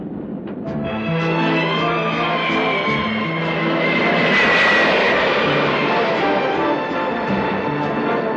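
Steady, loud drone of a fixed-wing airplane's engines heard from inside the cabin in flight, a continuous roar with a faint whine that swells slightly midway.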